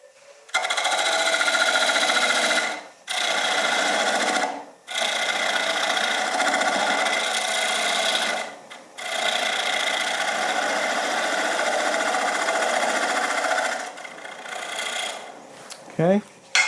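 Wood lathe spinning a bowl while a detail gouge cuts a sharp corner near the foot, a steady, fairly loud whirring hum with a few brief pauses between cuts and a short scrape near the end.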